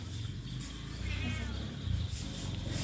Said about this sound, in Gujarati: એ મીંદડો આવ્યો.